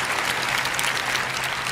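A church congregation claps for the Lord in a dense, steady burst of applause that fills the space evenly from start to finish.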